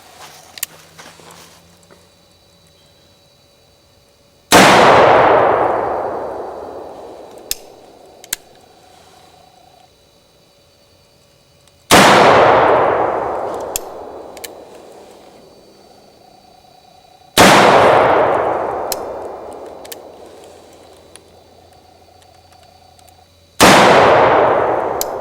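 An 1847 Colt Walker revolver fires four loud, close booming shots several seconds apart, each sharp blast followed by a long decaying echo, with faint clicks and handling noise between rounds.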